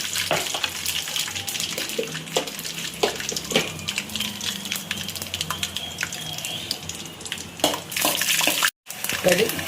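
Mustard seeds and peanuts hitting hot oil for poha, a busy crackle of sharp spluttering pops over a hissing sizzle, close and fairly loud, with a brief cut near the end.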